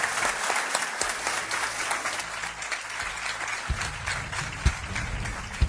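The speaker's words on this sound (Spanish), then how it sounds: "Os pido un aplauso para ellos." Studio audience applauding at a Spanish television special, a dense continuous patter of many hands clapping that stays steady and fairly loud throughout, with no talk over it.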